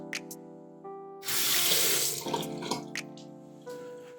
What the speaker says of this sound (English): go ahead and add some water to it